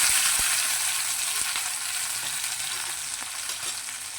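Chopped onion, tomato and green chilli fry in spluttering mustard seeds in a pan, giving a loud, steady, close sizzle with a few soft stirring knocks and no voices.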